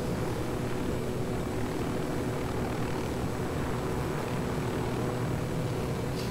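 A helicopter flies in the video game Ghost Recon Wildlands, its rotor and engine making a steady, dense, loud drone that holds unbroken throughout.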